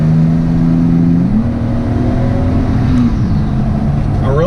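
A Toyota Corona driven around the block with a Chinese test pipe and an HKS exhaust mid muffler gives a close, steady engine drone whose pitch dips and climbs with shifts and revs, then rises sharply at the end.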